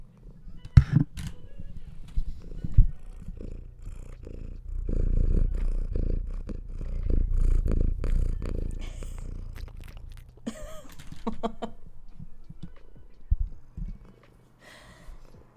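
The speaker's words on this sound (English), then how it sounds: "if you can hear her purr." A house cat purrs close by, a low, soft, steady rumble that swells in the middle. Scattered handling noises and light clicks sit around it.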